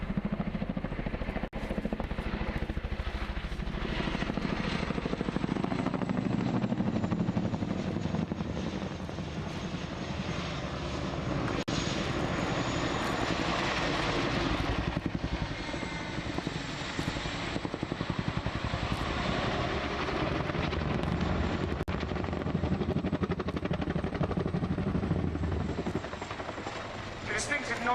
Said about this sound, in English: The distinctive noise you hear is what we call the lane slap.